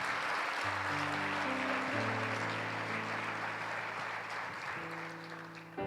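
A church congregation applauding during a sermon, dense sustained clapping that fills the space and fades slightly toward the end, with a held keyboard chord sounding underneath.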